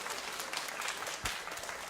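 A church congregation gathered for a founding Sunday service applauds in a brief burst of dense clapping at moderate distance.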